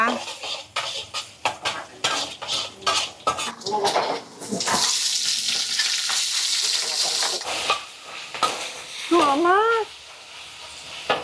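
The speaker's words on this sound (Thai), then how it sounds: "ใส่กระเทียมลงไป เราจะผัดกระเทียมให้หอมก่อนนะคะ" Garlic and fermented pork sausage stir-fried in a pan: a spatula scrapes and clatters in quick strokes, then a loud, close, steady sizzle takes over with more stirring knocks.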